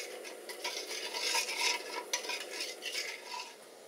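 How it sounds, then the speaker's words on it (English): A spoon stirs hot milk and cream in a pot for creme brulee, giving soft, steady scraping and light clinks against the metal at close range, with no voices. "Again, you only want to stir. You don't want to whisk any air into it."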